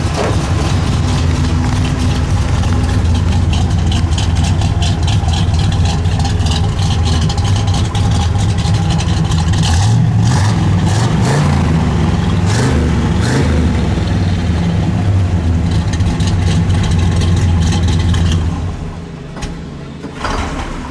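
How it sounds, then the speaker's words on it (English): A black 1967 Pontiac GTO with a Muncie gearbox idles loudly through a mild dual exhaust, a deep steady rumble with a slight lope, close by, quieting somewhat near the end. "It's got a nice sounding dual exhaust, nothing radical, just a nice 67 sounding dual exhaust"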